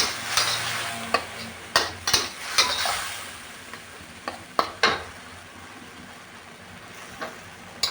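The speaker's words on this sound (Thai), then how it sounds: "เดี๋ยวก็จะใส่แครอทลงไปก่อนเลยนะคะ" Carrots are stirred in a pan for Thai three-flavor fried tilapia: quiet sizzling under repeated sharp scrapes and clinks of a utensil against the pan, irregular and close, with no talk.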